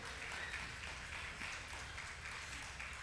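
Steady applause from an audience at a Christmas celebration, a dense continuous patter of many clapping hands that stays even and fairly faint throughout.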